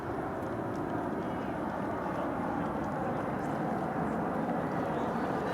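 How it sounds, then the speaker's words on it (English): A fixed-wing airplane passes overhead near Phoenix Sky Harbor Airport, a steady, moderately distant engine roar that rumbles on for several seconds without a break. "And another thing you'll hear a lot of, planes in the area."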